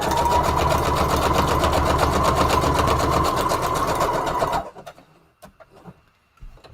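A sewing machine running a simple stitch on paper tickets, a fast, even mechanical whirr with rapid needle pulses for several seconds, then stopping abruptly, followed by a few quiet clicks and handling sounds.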